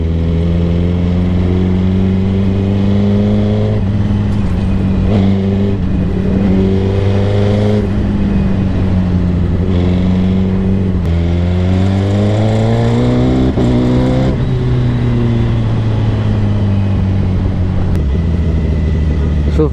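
A Kawasaki ZX10R motorcycle fitted with an Arrow full exhaust system revs loudly and continuously, its engine note climbing and falling through repeated throttle blips close by.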